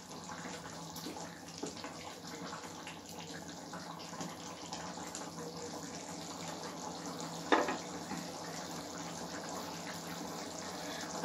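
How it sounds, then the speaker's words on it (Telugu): Tamarind gravy with taro root simmering in a pot, a soft continuous bubbling hiss with one brief louder pop partway through, no voices. "చూడండి ఇది బాగా ఉడుకుతుంది"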